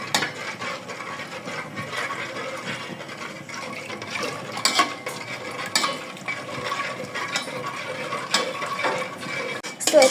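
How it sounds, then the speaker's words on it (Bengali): Firni, a milk pudding, being stirred constantly in an uncovered pot on a stove, with a spoon scraping and clicking against the pot in an irregular rhythm amid soft liquid sloshing, no talk. "যখন চুলাটাকে অন করবেন, এটাকে অনবরত নাড়তে হবে,"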